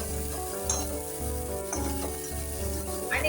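Gravy sizzles and fries in hot oil in a pan, a dense continuous crackle with a low steady hum beneath and occasional brief scraping stirs.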